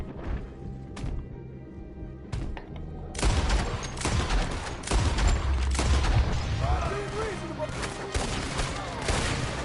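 A chaotic Red Dead Redemption 2 ranch shootout: scattered sharp gunshots build into heavy overlapping gunfire with loud booming reports, while voices shout and talk intermittently over the fighting.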